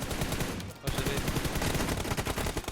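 Rapid bursts of gunfire in PUBG crowd the clip, dense repeated shots with a brief drop in the middle before the firing resumes, loud and continuous.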